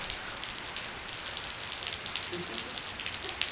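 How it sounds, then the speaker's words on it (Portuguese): Steady rain falls in Araxá, a dense even hiss of drops striking surfaces nearby, continuous and fairly soft with no talk. "Eu vou mostrar que está chovendo."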